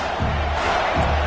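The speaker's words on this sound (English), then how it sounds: "This crowd is trying to inspire this defense to make a big red zone stop." A packed stadium crowd roars in a college football video game with South Carolina playing, a dense, steady wall of cheering that swells as the defense lines up for a red zone stand.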